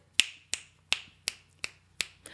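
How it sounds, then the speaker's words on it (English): Seven sharp finger snaps, spaced about every half second and loud and close, ring out alone over a faint low hum in place of clapping. "I'm not going to give you a full clap, just some snaps."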